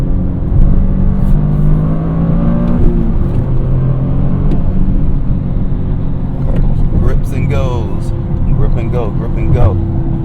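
A Toyota GR Corolla with all-wheel drive accelerates hard through a run of curves. The engine note climbs and holds as a loud, continuous in-cabin roar, and a voice talks over it toward the end.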